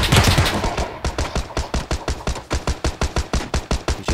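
Rapid automatic gunfire in PUBG, a steady string of sharp, evenly spaced shots after a heavier opening burst, loud and close with no talking.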